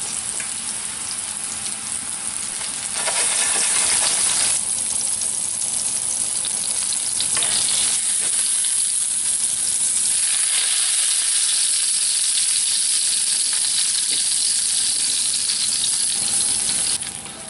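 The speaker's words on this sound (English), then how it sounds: "I'll just fry these like I usually do with the fresh ones until the center is soft on these" Seasoned eggplant pieces, previously frozen, sizzle and fry steadily in a pan, a constant loud crackle with brief clinks and a slight swell after a few seconds, no talk.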